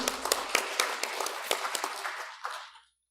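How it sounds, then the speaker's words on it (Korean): A short round of applause from a congregation at a Won Buddhist temple service, with scattered claps that thin out and fade to silence within a few seconds. "큰 박수 부탁드립니다."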